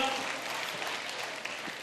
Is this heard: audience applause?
yes